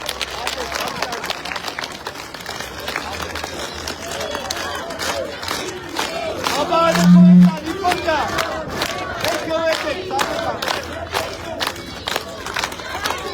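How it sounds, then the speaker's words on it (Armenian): A large rally crowd roars and cheers, with steady rhythmic clapping pulsing through a dense wash of voices that swells briefly near the middle before settling back. "ծափ տվեք ուրեմն"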